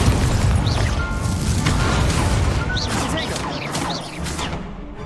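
Fiery spell effects from the Incendio spell in Hogwarts Legacy: rumbling blasts and crackling bursts rise and fall under loud talking throughout.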